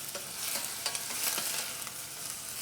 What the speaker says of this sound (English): So once you have your onions sauteing